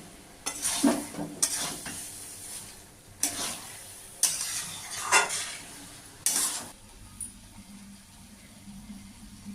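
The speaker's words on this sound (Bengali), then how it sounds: "মটর দিয়ে আমি মশলাটা ভালো করে মিশিয়ে কিছুক্ষণ ভাজবো" Spice mix with peas frying in a pan for chicken ghugni, with a steady low sizzle broken by five or six loud scraping strokes of a spoon stirring, close and without talk.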